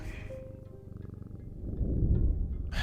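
A cat purrs in the video game Strange Antiquities, a soft low rumbling purr that swells louder toward the end, with no talk over it.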